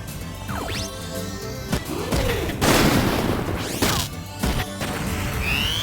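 Video game Front Mission 3 plays its battle effects, with shotgun blasts and sharp crashing impacts landing in quick bursts over a steady background soundtrack.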